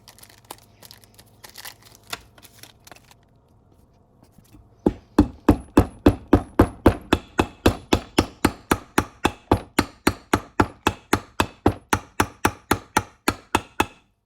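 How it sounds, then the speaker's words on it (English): Rapid, evenly spaced hammer blows ring out on a 2020 Yamaha YZ250F engine case while driving in a water pump seal, dozens of sharp strikes in a steady rhythm after a quiet start. "You don't need to worry about damaging the cases with the fucking hammer when you're beating on it"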